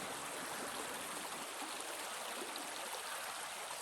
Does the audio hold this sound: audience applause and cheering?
no